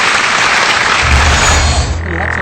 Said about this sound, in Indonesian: Beri tepuk tangan untuk Profesor Dr. Yusuf.